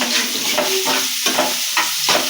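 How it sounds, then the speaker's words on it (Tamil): Finely chopped onions sizzle in hot oil as they are stirred in a pan for a prawn gravy, with steady frying hiss broken by rhythmic scraping strokes of a large spoon, close and continuous. "பொடி பொடியாக நறுக்கிய வெங்காயம் போட்டு நன்றாக கிண்ட வேண்டும்."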